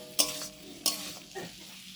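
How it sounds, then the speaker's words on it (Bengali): Masala for a pangas fish curry is sautéed in a hot pan: two sharp scraping stirs with a brief sizzle after each, then a softer third stir, close and fairly quiet. "আর এখন মশলাটা কষিয়ে নিচ্ছি"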